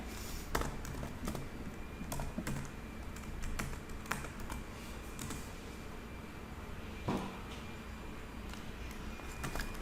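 Steady typing of C++ code on a computer keyboard, a quiet run of rapid key taps with a few heavier strokes, close by and alone with no voices.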